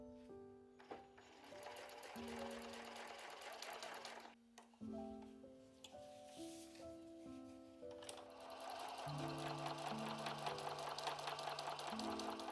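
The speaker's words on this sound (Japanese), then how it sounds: "カバンの入れ口にこのように縫います。" A sewing machine runs in long steady bursts, stitching along the opening of a slim quilted shoulder bag, with one short pause before it starts again.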